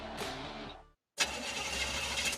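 A car engine struggles as if breaking down: it runs roughly, dies into a brief silence, then bursts back loud and rough, close up and alone.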